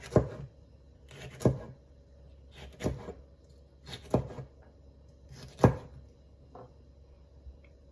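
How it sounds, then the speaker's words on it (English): Knife slices chili peppers into rings on a cutting board, five or six sharp, evenly spaced chops with quiet pauses between them. "now we're gonna slice them into rings"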